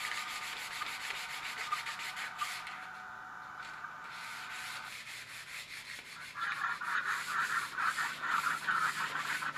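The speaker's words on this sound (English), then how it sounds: "And then giving it a sand and going with the grain, kind of lighten up the scratches." Sandpaper rubbing along the grain of a teak rolling pin, a close, continuous hiss of sanding that grows louder and more vigorous in the last few seconds.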